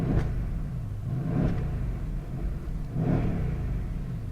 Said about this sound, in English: I just want you to hear the exhaust as I rev it